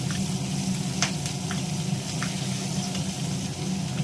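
Hilsa fish pieces, heads included, fry in hot oil with a loud, continuous close sizzle, marked by a few sharp pops and spatters.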